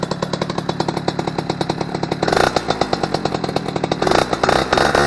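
Eton Viper 90R two-stroke engine idling close up, a rapid buzzing, popping putter that swells into a louder rev midway and again near the end, running a little rich.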